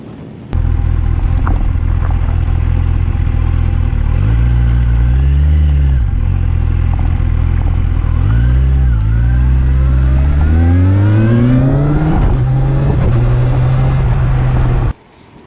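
A Kawasaki Ninja 1000SX sports touring motorcycle engine drones loud and close while being ridden, rising and falling through the gears with repeated climbing revs and a long steady acceleration before cutting off.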